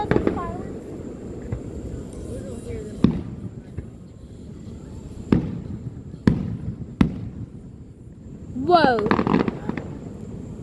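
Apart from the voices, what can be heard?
fireworks exploding, Fourth of July display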